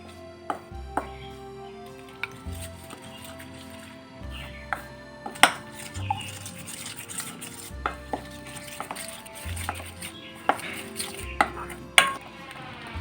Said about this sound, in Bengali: এখন আমি হাত দিয়ে ফেটাচ্ছি হাত দিয়ে খুব ভালোভাবে মিনিট পাঁচেক মতন ভালো করে ফেটিয়ে নেবো